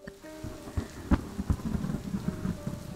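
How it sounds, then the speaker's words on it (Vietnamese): Rain patters on surfaces as thunder cracks and rumbles through a stormy village night, with several sharp close strikes over a continuous soft downpour and no voices. "Tiếng sấm sét bắt đầu nổi lên."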